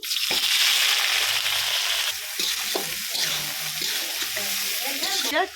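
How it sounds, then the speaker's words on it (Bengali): Two kilos of chopped onions, for four kilos of mutton curry with bay leaves, fry in hot oil with a loud, continuous sizzle. A spatula stirs through it with repeated scrapes and knocks. "এখানে পেঁয়াজ কুচানো আমি ঢেলে দিচ্ছি।"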